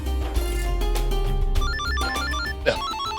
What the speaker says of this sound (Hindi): एक सेकंड सर, सॉरी, क्लाइंट का फोन है।